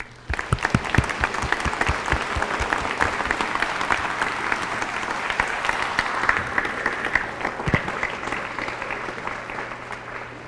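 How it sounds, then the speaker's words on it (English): An audience applauds doctoral graduates at a university convocation, a few sharp claps at first swelling into a steady, dense round of clapping that holds throughout, with a low steady hum underneath. "I'd like to invite you to share with me the applause"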